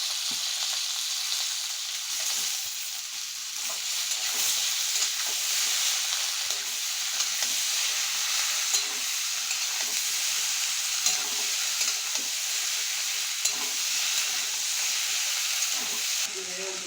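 Taro and potato pieces tossed into a pan of onion fried with five-spice seeds for a taro and prawn dish, giving a loud continuous sizzle and hiss with faint stirring scrapes, with no talk.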